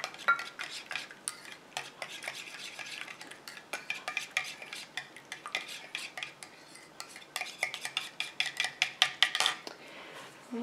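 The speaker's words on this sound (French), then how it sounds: "Je vais mélanger comme ça jusqu'à ce que ma préparation épaississe et refroidisse" An almond body cream mixture, water phase blended into oil phase, is stirred in a bowl: a steady run of close scraping and clicking strokes of a utensil against the bowl, with no one talking.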